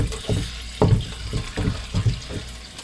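Cold tap water running over bags of frozen trout, an uneven splashing and gurgling with several louder surges, close and alone.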